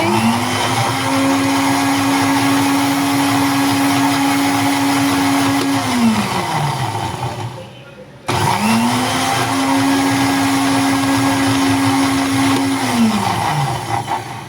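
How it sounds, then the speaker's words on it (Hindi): An electric blender grinds onions in two long, loud whirring runs, each spinning up to a steady high drone and winding down, with a brief stop between them. "प्याज हम पीसने जा रहे हैं। प्याज पीसने लगे।"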